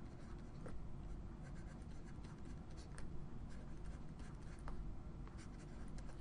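Marker or chalk writing on a classroom board during a lesson on solving trinomial equations, a steady scratchy scraping that runs throughout with small stroke accents, close and continuous, no talking.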